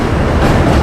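A New York City subway M train running between Brooklyn and Manhattan, heard close and loud from inside: a steady roaring rumble of wheels on rails with a rhythmic clatter throughout the short stretch, no voices.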